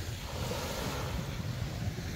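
Continuous wash of calm sea waves on a quiet winter beach in Rhodes, mixed with wind buffeting the microphone, a steady low roar with no voices.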